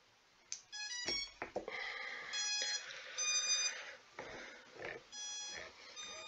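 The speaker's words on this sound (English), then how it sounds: "One of the motors is turning all by itself and it does keep beeping." A DIY 4-inch long-range FPV drone beeps after its battery is plugged in, giving a quick series of sharp electronic tones followed by repeated beep patterns, with faint motor whine between them.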